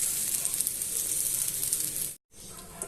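Pointed gourd (potol) slices frying in hot oil give a loud, continuous bright sizzle, broken by a brief silent gap near the end before the sizzling resumes.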